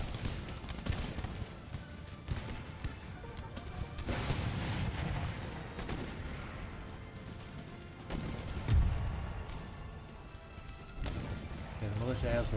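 Musket volleys from militia and regiments of foot crackle and boom through a busy Empire: Total War battle, layered with constant battlefield din, while someone talks over the noise throughout.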